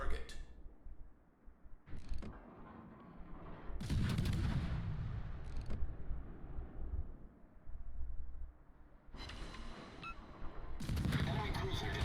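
Heavy naval guns fire in a ranked warship video game, with several booming salvos and sharp cracks spread across the clip and mechanical creaks between them, while someone talks over the action.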